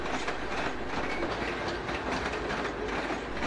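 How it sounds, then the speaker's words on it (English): British Rail locomotive City of Lichfield hauling its train up the Camden Bank incline out of London Euston in the 1980s, a steady dense rolling roar with faint wheel clatter, heard at a distance and fairly quiet. "City of Lichfield and its train begin the ascent of Camden Bank"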